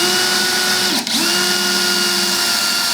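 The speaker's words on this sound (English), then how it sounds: "I'll even drill it right on top of the board." A power drill bores a hole through crumbly board, its steady high whine running close and loud for the full stretch, briefly dipping in pitch for an instant as the bit bites, then resuming its even drone.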